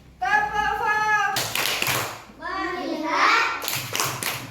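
Children clapping hands together in a classroom clapping game led by a teacher, bursts of claps mixed with children's voices chanting and someone speaking over them.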